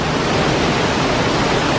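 Bridal Veil Falls in Oregon's Columbia River Gorge roars loudly and close by, a dense, unbroken rush of falling water with no other sounds.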